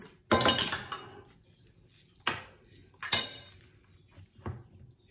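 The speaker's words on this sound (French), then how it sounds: "On va fermer avec un couvercle" A lid clinks shut on a container of freshly packed kimchi, with several sharp glassy knocks and clatters spaced out over a few seconds, close and distinct against a quiet background.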